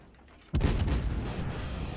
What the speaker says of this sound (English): I'm still continuing to fire.